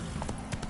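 A horse gallops in The Witcher 3: Wild Hunt, with a quick burst of clip-clop hoofbeats under a low game ambience.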